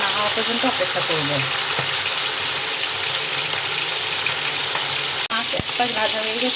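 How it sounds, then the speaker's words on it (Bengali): Bata fish frying in hot oil in a kadai, a loud continuous sizzle with bubbling crackles and a couple of sharp utensil knocks near the end. "এক পাশ ভাজা না হওয়া পর্যন্ত অপেক্ষা করব।"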